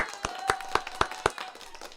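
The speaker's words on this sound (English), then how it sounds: "Round of applause for Darren Prattley, ladies and gentlemen." Hands clap in a steady rhythm of about five sharp, evenly spaced beats, moderately close, as a guest is welcomed on stage. Faint speech sits beneath the claps.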